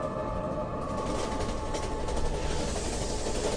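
At a railway station, a train gives off a steady, dense rumble and rattle that stays level and close the whole time.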